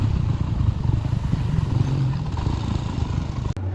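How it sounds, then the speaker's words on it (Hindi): A motorcycle engine runs in a steady, rough low rumble close by at a university parking stand, then cuts off abruptly near the end. "अभी यहाँ पे सबसे पहले बाइक लगाते हैं स्टैंड में"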